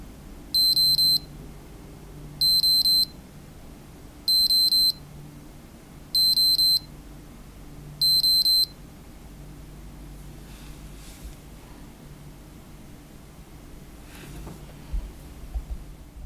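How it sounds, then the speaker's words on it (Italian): Cressi Nepto dive watch timer warning: five evenly spaced bursts of shrill, high electronic beeping, each roughly half a second long, close and clear over a quiet background, followed by faint handling noise. "Arrivato al 0, l'orologio emetterà per 5 secondi dei beep di avviso."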